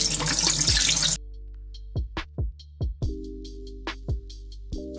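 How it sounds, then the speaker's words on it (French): Rice rinsed under clear running water: a loud rush of tap water stops abruptly, then a string of close drips and splashes as the grains are swished and drained in the bowl. "On va rincer le riz à l'eau claire."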